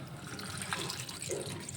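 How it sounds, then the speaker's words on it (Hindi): Water pours from a tap into a cooking pot of butter, tomatoes and onions for shahi paneer, a short steady splashing stream close by. "थोड़ा पानी इसमें डालकर"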